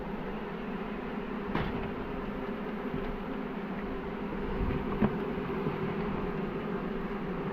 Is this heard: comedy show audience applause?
no